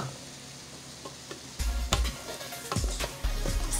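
A spoon stirring Nigerian fried rice with green peas and sweet corn in a hot pan, giving a few scraping, clattering strokes over a soft sizzle, close by with no talking.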